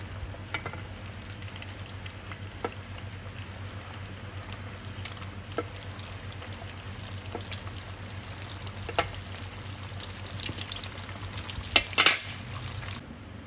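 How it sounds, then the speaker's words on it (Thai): Taro wrapped in tofu skin fries in hot oil, giving a steady, soft sizzle with occasional light clinks of utensils and a brief burst of clattering near the end. "หลังจากนั้นเราก็จะนำทอด ที่เหลือเลยค่ะ"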